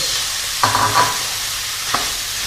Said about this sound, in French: je vais bien mélanger pour que le riz puisse s'imprégner un petit peu de toute la matière grasse et puis les autres ingrédients